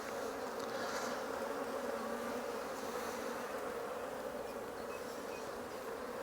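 Honeybees buzzing around an opened, double-brood-box National hive in a chilly breeze, a dense steady swarm drone filling the air close by, with no talking.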